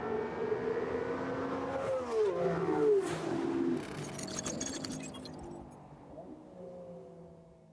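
A Ferrari 12C, a Lamborghini Revuelto and an Aston Martin Vanquish accelerating in a drag race, heard as rising and falling engine notes with sweeping pitch changes that fade into the distance, with some clinking noise near the middle.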